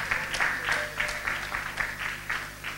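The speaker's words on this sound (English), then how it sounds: "poorest clap I have ever heard in my life" A church convention audience at a New Testament Church of God gathering gives thin, half-hearted clapping that pulses in a loose, even rhythm over a faint tonal backdrop, sparse rather than full applause.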